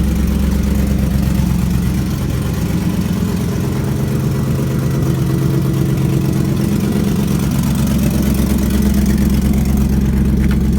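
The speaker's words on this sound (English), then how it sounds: "It's got a little bit of an exhaust leak, but it's not as bad when you have a V8." A Chevrolet LS1 V8 engine idles steadily and loudly at close range, with a rough, ticking exhaust leak puffing beneath the deep rumble.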